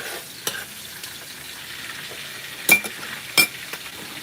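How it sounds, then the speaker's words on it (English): Oil sizzles steadily in a pan as red kidney beans are fried Liberian style, with a few sharp clicks and scrapes of a utensil stirring now and then. "this is frying"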